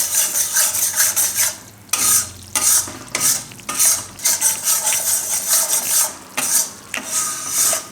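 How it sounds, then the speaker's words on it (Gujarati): Amaranth (rajgira) flour is roasted in a pan and stirred with steady, rhythmic scraping strokes, each one close and loud over a soft sizzle, with brief pauses between them. "ત્રણથી ચાર મિનિટ માટે થોડોક આનો કલર ચેન્જ થઈ જાય એવો એને શેકવાનો છે"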